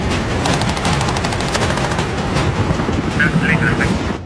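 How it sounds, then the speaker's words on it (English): Continuous heavy gunfire rattles on throughout, dense and loud, blending into a steady roar with a few sharper bursts near the end. "That gunfire can be quite loud, can't it?"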